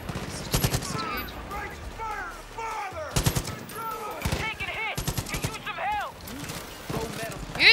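Far Cry 5 gunfire rattles in rapid automatic bursts, sharp and close, recurring in clusters across the stretch, with a voice talking between the volleys.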